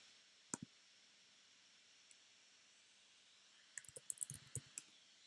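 Computer keyboard keys being typed, two quick isolated clicks early, then a denser burst of uneven taps toward the end, close and fairly faint over a soft steady hiss.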